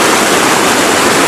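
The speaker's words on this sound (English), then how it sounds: "The water rushing underneath the bridge, working its way down through the greenery and the reeds that grow here." Water at Plitvice Lakes, Croatia, rushes under a bridge past reeds and greenery with a loud, steady, close broadband roar and no voices.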